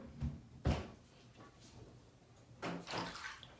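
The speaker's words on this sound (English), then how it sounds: "Can you close the door behind you?" A door is pushed shut at home, giving a couple of close wooden knocks and thumps separated by quiet gaps, with softer rustling movement in between and no voices.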